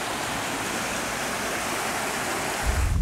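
Clear blue stream water rushes steadily along Lower Rock Creek in Missouri, a constant close babbling hiss, with a brief louder thump near the end.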